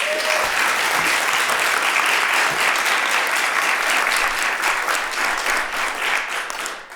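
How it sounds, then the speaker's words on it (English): A seminar audience gives a long, steady round of applause for students, the dense clapping holding near and full for several seconds before easing slightly at the end. "So let's give them another round of applause."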